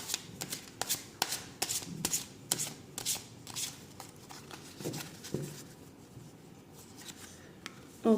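Chakra Wisdom oracle cards being shuffled by hand, a series of quick riffling bursts and soft slaps, close and clear with no talking over it.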